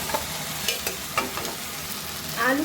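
Potatoes fry in a pan of cooked-down spice paste for a Bengali-style duck egg curry, a steady close sizzle broken by several sharp scraping stirs, with no voices.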